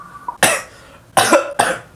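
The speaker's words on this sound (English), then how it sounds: "I'm coughing and shit" A person gives three sharp, close coughs: one burst, a short pause, then two more in quick succession, loud and alone.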